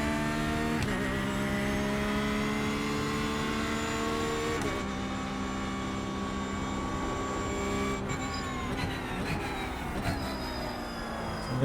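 Porsche GT3 race car engine in the iRacing sim, a steady loud drone with layered harmonics that rise and fall as the revs shift, with sharp changes near one, five and eight seconds and no talking.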